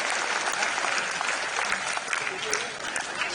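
Audience applause at an event with the Chief Minister, dense steady clapping from a crowd throughout, loud and close with no break.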